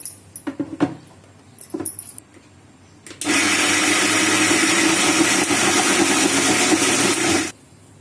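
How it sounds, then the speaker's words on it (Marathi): A kitchen mixer grinder runs loud and steady for about four seconds, grinding soaked urad dal with no water added for medu vada batter, after a few short clinks and handling knocks at the start. "तर आता आपण हे मिक्सर मध्ये वाटून घेऊया।"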